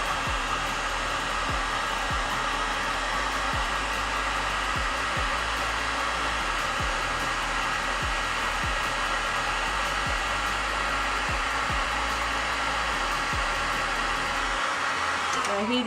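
A hot air tool blows steadily on a Tyvek bead in a mixed media project, a continuous loud whooshing drone that lasts throughout with faint repeated ticks beneath it.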